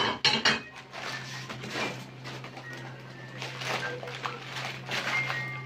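Plates clink and knock together as they are handled while a package from Japan is unpacked, with scattered close ceramic taps and rustling over a low hum, while birds coo faintly in the background.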